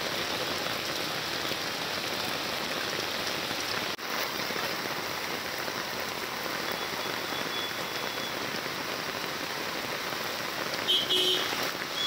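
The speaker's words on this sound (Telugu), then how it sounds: "రాష్ట్ర రాజధాని హైదరాబాద్లో భారీ వర్షం కురుస్తోంది." Heavy rain pouring down on Hyderabad streets, a dense and constant roar of drops hitting surfaces, loud and unbroken throughout.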